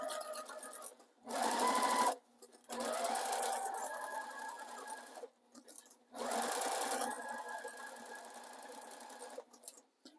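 A sewing machine stitches raw-edge appliqué on a baby quilt, running in several bursts of steady whirring separated by short pauses, close and clear, with no talking.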